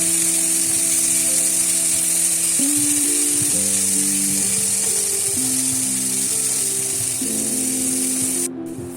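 Cashews and raisins fry in oil, giving a steady hissing sizzle throughout, with a tonal hum in the background, close and even until it cuts off near the end.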